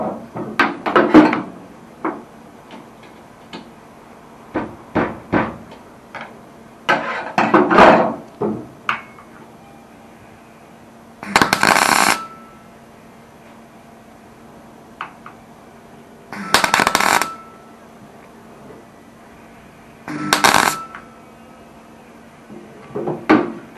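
Work on a Holden Torana UC cowl during rust repair, with a tool tapping the metal down in sharp knocks and clunky bursts scattered between quiet gaps, close and fairly loud, with no speech.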